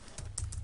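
Computer keyboard keys clatter in a quick run of several close, crisp clicks while someone enters a mortgage formula into a spreadsheet, with no talking.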